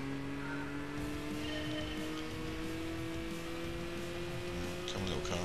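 A race car engine drones steadily in the Gran Turismo GT Academy game, holding a sustained even hum and slowly rising in pitch, with no talk over it.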